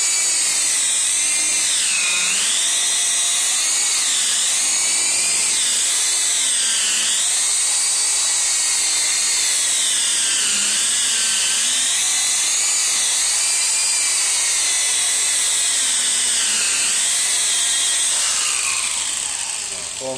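A rotary polisher spinning at around 4,000–4,500 RPM while polishing wax on a car gives a loud, continuous high whine whose pitch sags and recovers repeatedly as it bears down on the paint, running on for twenty seconds.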